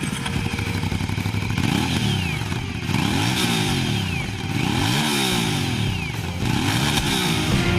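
A 2017 Aprilia Shiver 900 twin-cylinder motorcycle engine revs repeatedly, pitch rising and falling in several sweeps, loud and close with a rough mechanical edge.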